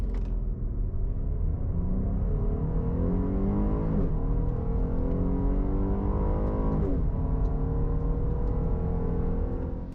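A 2022 Jeep Grand Cherokee L accelerating hard in a performance test, a loud, close engine roar whose pitch climbs steadily through the gears with brief dips at each shift, continuous and without talk.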